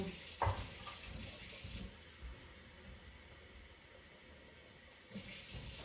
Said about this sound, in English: we put 3 cups of water in it